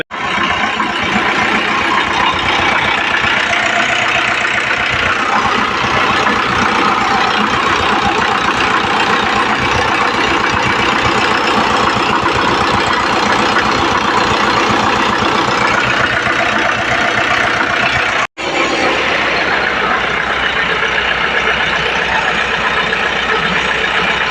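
A steady, close engine idles continuously with a low, rumbling chug, broken once by a brief dropout before the idle carries on.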